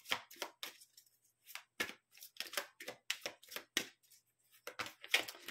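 Tarot cards reshuffled by hand, a quick run of dry crisp flicks and slaps in irregular bursts, close up and fairly quiet with brief pauses between riffles.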